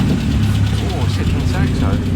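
Modern Ford Mustang 5-litre GT V8 idling at a historic vehicle road run, a loud, close, steady low rumble with a slightly uneven pulse, people talking over it.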